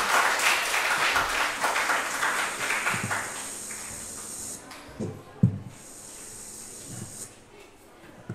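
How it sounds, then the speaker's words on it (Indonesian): An audience at a talk on stories shaping identity claps for the speaker, dense applause that fades out midway, leaving scattered thumps and room noise. "Kita beri tepuk tangan untuk pemateri kita."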